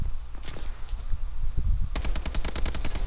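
Rapid automatic gunfire in Call of Duty Advanced Warfare, loud and close, with a tight burst of repeated shots near the end after scattered earlier firing.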